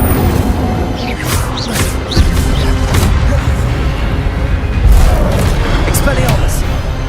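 The Incendio fire spell in Hogwarts Legacy goes off as a series of loud whooshing bursts and booming crackles, repeated several times in quick succession amid other spell effects, with a voice shouting spell names.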